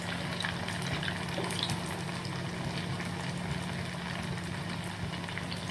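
Sabudana vadas fry in hot oil over medium heat, giving a steady, dense sizzle and crackle with a low hum underneath, close and continuous throughout.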